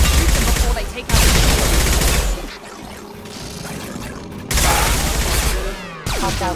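Sustained gunfire against hostile mechs in Mass Effect 2, loud rattling bursts that stop, then return after a lull, with heavy low-end impact.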